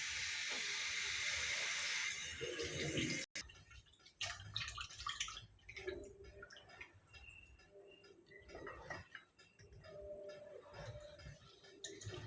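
Running tap water pours while veld grape stems are washed, a loud steady hiss for about three seconds that cuts off abruptly, followed by quieter scattered kitchen handling noises.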